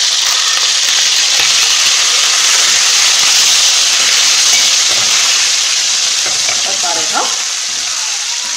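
Chicken pieces frying in a pan for a chili pepper tajine, a steady loud broadband sizzle that holds for the whole stretch with faint stirring clicks near the end.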